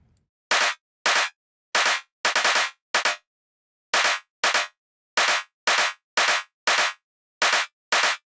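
Sharp clap synthesized from white noise in Phase Plant hits in an irregular pattern, some doubled into quick flams by a short delay, each with a bright burst and a brief tail; no voices.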